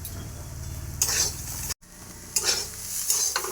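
A banana flower curry sautéing in a pan, a steady sizzle under repeated stirring scrapes, with a brief cut to silence midway before the stirring and hiss resume.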